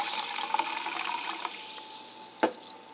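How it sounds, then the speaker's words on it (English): Club soda being poured into a glass, a steady fizzing, bubbling liquid stream that thins out, followed by a single short clink near the end. "you open up this PC Club Soda Low Sodium and you pour it into"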